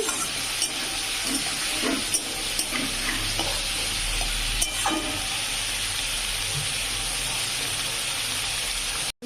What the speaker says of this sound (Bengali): আর এটাকে ভালো করে ভাজতে হবে, পুরো লাল করে